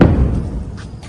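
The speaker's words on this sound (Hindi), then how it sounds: "जोरदार धमाका हुआ, जोरदार धमाका हुआ।" A heavy explosion from an Iranian missile attack on Tel Aviv, heard as a loud, deep thud at the start that rumbles and fades over about a second, with no speech.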